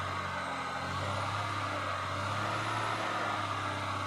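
Engine of a Caterpillar 950H wheel loader with a hard-starting problem, running at a steady, loud, continuous drone with a constant low hum and no clear rise in pitch.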